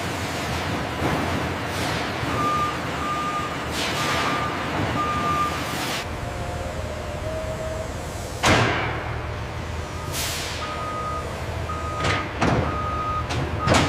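At an apple juice factory loading bay, trucks rumble while intermittent reversing beeps repeat in evenly spaced runs, broken by several loud metallic slams and door clanks, with no talk.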